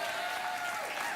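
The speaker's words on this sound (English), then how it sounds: "All that clapping and cheering" A late-night TV talk show studio audience claps and cheers for the host, a steady dense wash of applause that stays loud throughout.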